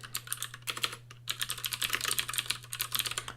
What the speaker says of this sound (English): let me just go ahead and type that in here